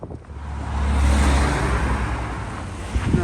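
Road traffic on a Friday night beside a roundabout near the River Gier, with a steady engine rumble that swells as a car passes close by, then continues as lower background traffic noise.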